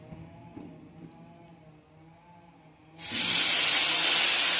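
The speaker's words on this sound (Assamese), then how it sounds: "দি মই ফুলকবিখিনি ভালদৰে ভাজি ল'ম" Cauliflower florets hit hot oil in a wok with a sudden loud hiss that swells into steady, even sizzling after a quiet start.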